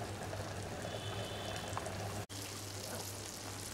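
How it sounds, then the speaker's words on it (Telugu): Brinjal, potato and tomato curry simmers under a lid on a low flame, giving a faint, steady bubbling sizzle with a low constant hum beneath and a brief dropout near the middle. "ఇప్పుడు కలుపుకొని మూత పెట్టి 3 నుండి 4 నిమిషాల పాటు సన్నని మంట పైన ఉడికించాలి"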